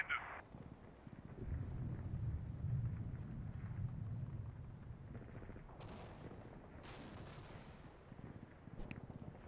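Gunfire in the Combat Mission tank battle game, a shot taken at a bailed-out tank crew: low rumbling battle noise throughout with a few sharp cracks near the end, no talking.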